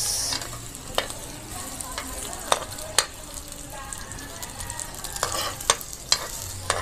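Ginger and onion fry in a hot pan, a steady sizzle broken by sharp scraping and clacks as the mixture is stirred, close and moderately loud with no speech.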